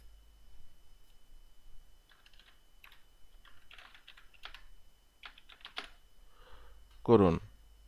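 Typing on a computer keyboard, sparse clusters of light clicks in short bursts, close and quiet, with a brief voice at the end.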